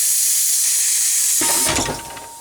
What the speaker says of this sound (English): But I'm going to cut them with a plasma.